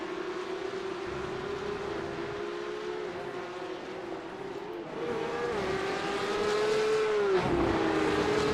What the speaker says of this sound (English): And there is the car of Maciej Krolitkowski